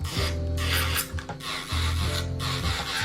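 A nail drill filing an acrylic nail gives a steady electric whir with a rough, rasping grind, running in two long stretches with a short break between, close and fairly loud.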